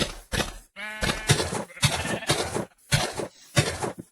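Sheep in the video game Minecraft bleat in a series of short, loud, close calls separated by brief pauses, with one drawn-out wavering bleat near the start.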